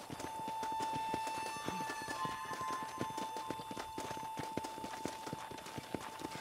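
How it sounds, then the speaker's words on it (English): Horse hooves clip-clop steadily in Red Dead Redemption, a rapid, even rhythm of close, loud strikes with a constant high tone running underneath. "Come on, horse."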